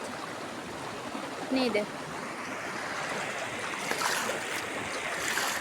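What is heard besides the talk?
Kirindi Oya river water flowing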